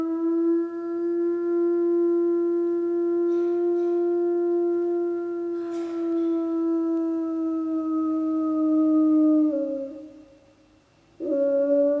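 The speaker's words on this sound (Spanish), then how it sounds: "el único sonido que oímos es el aullido de lobos" Wolves howling in long, sustained, tonal wails that hold steady and then dip before a fresh howl rises, loud and alone without any voices.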